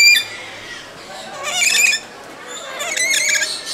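A very loud bird on a street in Cebu City, Philippines, lets out shrill squealing squawks in two close bursts, each about a second long.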